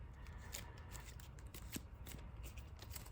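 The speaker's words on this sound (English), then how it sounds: "Get some nice shuffle action popping real quick." A trading card game deck, a purple Wolf of Friendship starter, is shuffled by hand with rapid riffling and flicking of cards, close and fairly quiet, and no voices.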